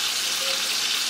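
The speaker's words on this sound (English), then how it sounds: "You're not frying it. It's just you're sauteing it." Chicken sautéing in a pan on a home stove, a steady soft sizzle of frying with no talk over it.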